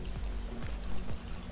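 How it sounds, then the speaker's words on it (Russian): Water poured in a steady trickling stream into leftover pork marinade in a pan to start a sauce, close and continuous with faint splashy texture, no voices. "Добавляем небольшое количество сюда воды"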